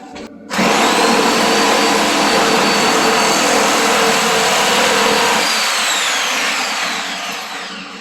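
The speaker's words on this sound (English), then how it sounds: "Because this wood's the way it is, you got to drill it first." Power drill boring a pilot hole into wood during a build, a loud steady motor whine with grinding that starts abruptly and holds, then eases toward the end.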